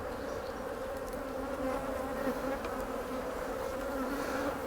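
A dense, steady drone of many bees buzzing close by at an open hive, continuous and unbroken with no voices.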